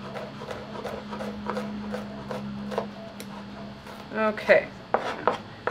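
Knife chopping onion and green pepper on a cutting board in a home kitchen, a series of sharp taps at an uneven pace, close up, with brief talk.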